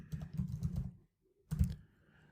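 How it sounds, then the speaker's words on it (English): Rapid typing on a computer keyboard as a command is entered on a Windows machine, a close burst of keystrokes, a short pause, then another quick flurry, with no voices. "And let's start typing the command."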